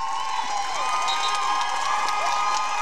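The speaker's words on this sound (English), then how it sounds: "And you can hear the crowd." A crowd at a girls' high school state championship basketball game cheers and shouts in a sustained roar, with high whoops and squeals rising over the steady noise of the crowd and some applause mixed in.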